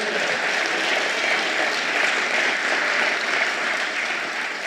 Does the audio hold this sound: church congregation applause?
yes